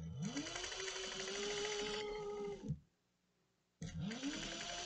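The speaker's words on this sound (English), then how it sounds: "Just top stitching." A sewing machine running steady top stitching on a cross-body sling bag, a close, even whirring hum that stops briefly and then starts up again.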